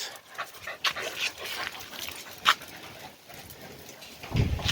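Several excited pet dogs pant heavily and scamper about indoors at home, bursts of breathing and scrabbling paws close by, with a louder thump near the end.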